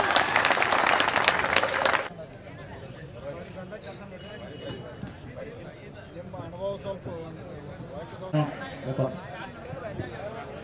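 At a sugarcane farmers' protest gathering in Bagalakote, a crowd bursts into loud clapping for about two seconds, then it cuts off and leaves murmuring voices and scattered noise.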